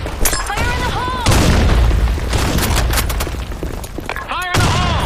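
Grenade blasts in a Counter-Strike-style sand map match: several loud booming explosions with crackling gunfire, under radio-style voice callouts at the start and near the end.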